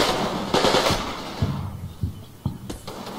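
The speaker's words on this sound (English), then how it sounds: "Especially with the heavy machine guns" Heavy machine gun fire in Combat Mission Red Thunder, sharp bursts and single cracking shots spread unevenly over a few seconds against a low battle rumble, with no voices.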